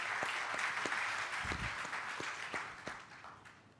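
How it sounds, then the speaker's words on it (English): Faint, thinning audience applause for a panelist at a watch-enthusiast discussion event, scattered hand claps with a few distinct sharp claps as it dies away. "Please give George a round of applause."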